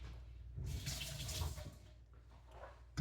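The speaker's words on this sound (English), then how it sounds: "Rinse it off." Water runs from a tap for a couple of seconds to rinse a small kitchen item, a soft splashing stream that swells and then tapers off, followed by a brief clunk.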